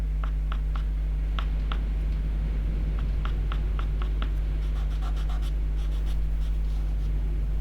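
Pastel stick scraping rough marks on paper while drawing an owl, a series of short close scratchy strokes in quick irregular bursts over a constant low hum.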